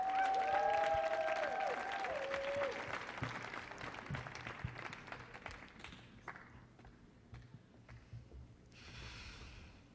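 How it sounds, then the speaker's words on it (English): Applause from a crowd at a youth showcase on the Kennedy Center's Millennium Stage, steady clapping that fades out over several seconds, with a whistle or cheer near the start. "Let's give a big, big warm round of applause for Jesse."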